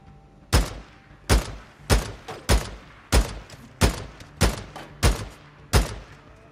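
Sniper rifle gunfire in the video game Days Gone: about ten sharp, loud shots ring out one after another at a steady pace, each with a short decaying tail.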